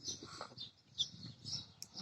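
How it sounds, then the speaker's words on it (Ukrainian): A small chick on a village farm peeps faintly in a few thin, high chirps scattered over quiet, low background noise. "Ще одна пташечка появилась, да, в господарстві."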